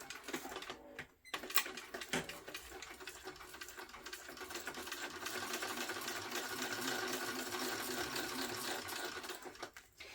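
A sewing machine stitches around the edge of a fabric notebook cover, a steady close-up whir of the needle running continuously for the whole stretch.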